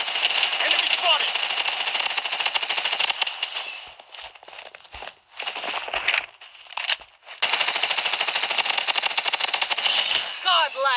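Automatic gunfire rattles in the battle royale game Bloodstrike, loud rapid bursts with brief pauses around the middle, then sustained firing again, with game voice callouts heard.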